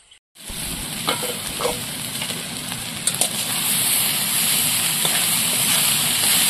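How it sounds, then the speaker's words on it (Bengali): Sliced banana stem fries in hot oil over a fire while being stirred, a loud continuous sizzle that swells and steadies, with a few scraping stirs near the start. "এবার থোড় এইভাবে নাড়াচাড়া দিয়ে থোড়টা ভাজা করে দেবো।"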